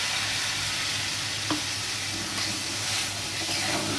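Spice paste sizzling in a pan of hilsa sour curry with green mango in water, a steady close hiss of frying with a brief stir partway through.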